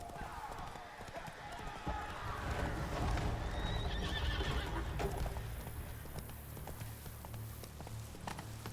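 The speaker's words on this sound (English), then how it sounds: "It's a person riding a horse." Hooves clip-clop steadily as a horse moves along in The Witcher 3 video game, with a whinny in the mix and a busy background of game ambience.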